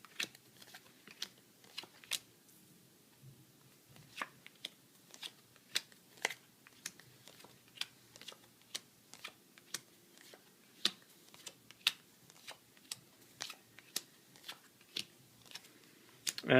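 Playing cards being dealt for the Spanish card game Mus, face up on a table: a long run of crisp, quiet snaps and flicks, each card landing separately in a loose, steady rhythm with near silence between them.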